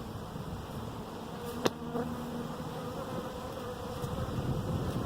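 Honey bees rescued from a tree in Wright City, Missouri, buzz steadily throughout a hive inspection, a dense continuous drone close by. One louder click or knock sounds briefly near the start.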